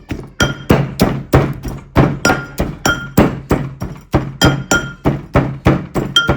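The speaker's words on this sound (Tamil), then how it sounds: "மிளகெல்லாம் நல்லா இடிச்சு தூள் வரக்கூடிய மாதிரி இடிக்கணும்" Peppercorns and other ingredients pounded in a mortar for a homemade natural pesticide: a steady run of about sixteen heavy, close thuds, each with a slight ringing clink, struck in an even rhythm with no talking.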